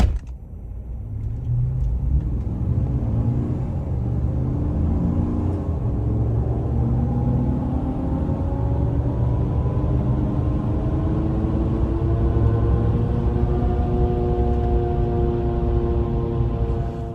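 A Chevrolet Silverado truck with a 6.2 engine and cat-back straight pipe exhaust rumbles deeply and continuously while parking, a loud low drone with slowly shifting tone and no voices over it.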